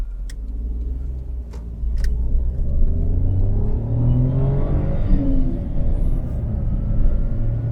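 A smoking Daihatsu car with suspected worn piston rings pulls away on a drive, its engine rumbling low and loud and building steadily as it accelerates, with no talk over it.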